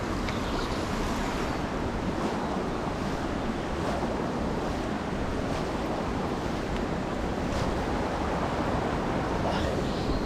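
Steady wind buffeting the microphone beside the River Almond during fly fishing, a loud continuous rushing roar that never lets up.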